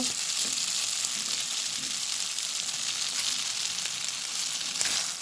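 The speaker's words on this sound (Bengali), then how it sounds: "উল্টা পাল্টা নেড়ে ছেড়ে নুডলসগুলোকে ডিমের সঙ্গে তেলের সঙ্গে মিশিয়ে নেব এবং হালকা করে ভেজে নেব" Boiled noodles fry in oil with potatoes and egg, giving a steady, dense sizzle throughout with occasional faint scraping from stirring.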